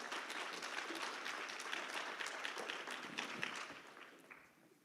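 Audience applause at a health summit in Arkansas, a dense, steady wash of many hands clapping that holds evenly and then tapers off toward the end, heard alone without speech.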